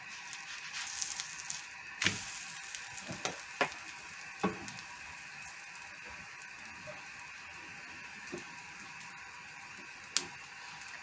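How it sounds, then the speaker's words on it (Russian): Liver pancakes fry in a pan with a steady, fairly quiet sizzle, broken by a few sharp clicks and taps of utensils, with no talking. "И печем блины. Блины пекутся очень быстро."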